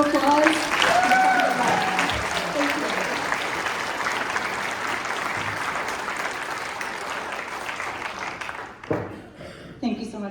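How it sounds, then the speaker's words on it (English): An audience gives a round of applause after a speaker's introduction at a public talk, the clapping loudest at first and gradually thinning out, with a voice speaking briefly near the start. "So let us give a big round of applause"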